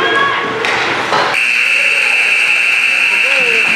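A long, loud electronic buzzer sounds at the end of an ice hockey period, droning steadily after a burst of arena noise and cheering.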